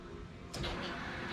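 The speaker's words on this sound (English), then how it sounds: "you can turn the key on till the fuel pumps come on" Fuel pump in a Mustang priming after the key is switched on: a steady electric whir kicks in about halfway through and holds, a modest hum over a quiet background.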